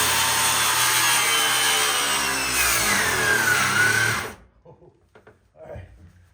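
A power saw cuts loudly and steadily through a wooden floor joist that is shifting and pinching the blade, running continuously for about four seconds before stopping abruptly, followed by faint handling noises.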